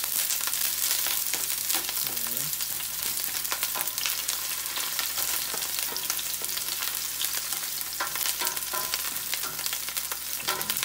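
Onions sizzle in olive oil in a pan while Ilocano igado is being cooked, a steady, crackling fry with small pops, fairly soft and continuous with no talk over it.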